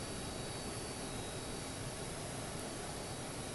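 Constant broadband roar of an airplane engine heard from outside while passengers unload from the plane, steady and moderately distant with no voices.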